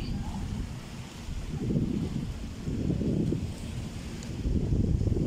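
Sea waves roll onto a beach in surges about a second apart, rumbling and washing under heavy wind buffeting on the microphone, with no talk over them.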